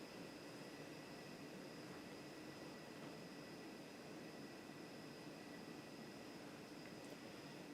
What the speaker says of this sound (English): Bearings are a bit whirly. And there is a bit of a motor hum.